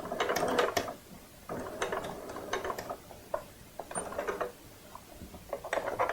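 A sewing machine stitches rickrack trim onto fabric for a gingerbread man softie, running in several short mechanical bursts separated by brief pauses, close and moderately loud.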